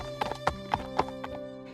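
Hooves of a horse ridden by a prince, a few clip-clop beats in an uneven rhythm, fairly close and clear over a steady tonal background, with no talk.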